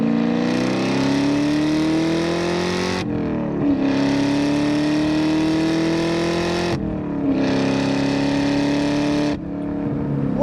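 A supercharged 4.6-litre 2003 Ford SVT Cobra convertible with a six-speed accelerates hard on gravel, its engine note climbing steeply through two gears with a brief dip at each shift, loud and close throughout.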